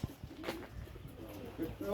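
Soft, low Malwai pigeon coos repeating close by at a pigeon tournament, mingled with faint rustling and background chatter.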